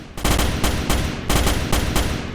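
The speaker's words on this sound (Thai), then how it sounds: "ตกใจเสียงปืนว่ะ" Rapid bursts of rifle fire from the video game Starship Troopers crack in quick succession, loud and close, in several volleys.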